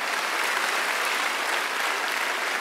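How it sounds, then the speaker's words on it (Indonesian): A church congregation at an online worship service claps loudly and steadily, a dense, even wash of applause with no break. "Tepuk tangannya meriah buat Yesus"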